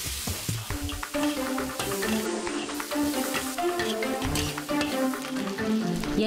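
Cured pork stir-fried with dried radish in a wok over a low flame, Miao style, giving a steady close sizzle and crackle with scraping stirs throughout and no talk.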